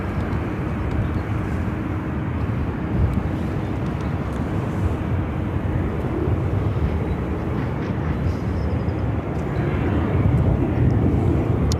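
Aircraft engines at Phoenix airport give a loud, continuous roaring rumble that stays steady throughout, with a slight rise near the end.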